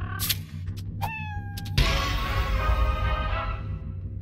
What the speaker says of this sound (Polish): Kotek!